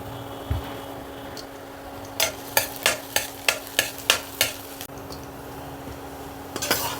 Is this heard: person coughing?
no